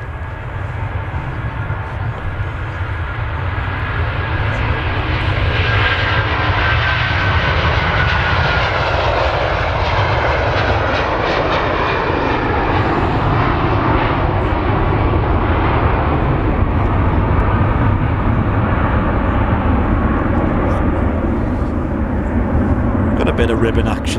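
Airbus A330 airliner taking off at Manchester Airport, with a loud, sustained jet engine roar building and rushing past over about twenty seconds, heard from nearby under light background noise.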